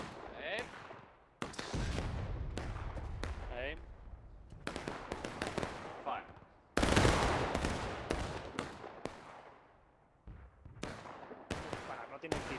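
Musket volley firing in the Civil War video game War of Rights, several loud sharp cracks and a dense ragged volley breaking out among shouted orders, with more scattered shots and talk continuing around them.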